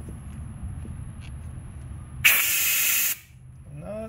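Compressed air bursts with a loud, steady hiss for under a second as the drain on a homemade water separator near an air compressor is opened, then cuts off abruptly, with quieter shop noise before and after.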